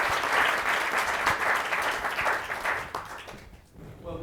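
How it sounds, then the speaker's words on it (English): Audience applause for panelists at a public-sector policy event, a dense steady wash of clapping that fades out toward the end. "please give our panelists a round of applause"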